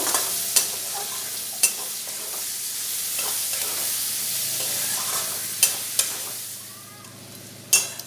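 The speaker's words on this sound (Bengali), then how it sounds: "পেঁয়াজটা একটু 2-3 মিনিট নাড়াচাড়া করে নেব।" Finely chopped onion sizzles loudly as it is stirred and fried in a pan, with a continuous hiss broken by several sharp spatula knocks against the pan.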